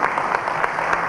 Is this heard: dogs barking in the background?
no